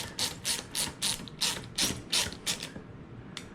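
A ratchet cranks down bolts onto washers during a clutch install on a Redcat Rampage MT RC truck, giving about nine quick bursts of close, bright clicking in a steady rhythm, then a short pause and one last burst.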